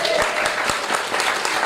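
Audience applause at a live acoustic concert, a dense burst of clapping and a few cheers from a small crowd, loud and close throughout.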